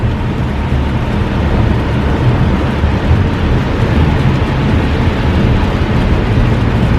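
Heavy rain and road spray roar in a dense, steady wash inside a Chevrolet Trailblazer RS cruising at highway speed around 100 km/h through standing water, loud and continuous with no voices.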